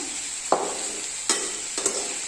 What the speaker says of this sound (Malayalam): ഇനി ഇതെല്ലാം കൂടെ നമുക്കൊന്ന് ഇളക്കി കൊടുക്കാം